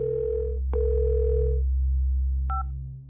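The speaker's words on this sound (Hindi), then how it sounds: "लाओ मिस्टर खलीफा को फोन लगाओ" A steady telephone dial tone hums continuously, broken by a short click near the start and two brief dialing beeps toward the end as a call is placed.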